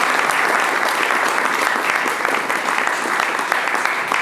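A round of applause from a live debate-show audience in Los Angeles, dense and loud sustained crowd clapping throughout.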